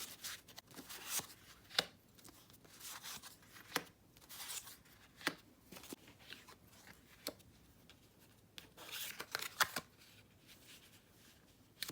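Tarot cards shuffled by hand in quiet surroundings, a string of short soft riffling and flicking bursts with brief pauses between them, fairly faint and with no voices.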